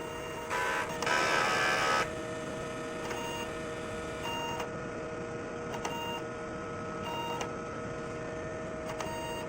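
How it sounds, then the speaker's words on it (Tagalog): A DTF printer hums steadily with a mechanical whir, a louder motor burst near the start, then regular faint clicks and beeps as the head-cleaning cycle runs. "So after natin ma-on yung printer, so mag-cleaning po tayo."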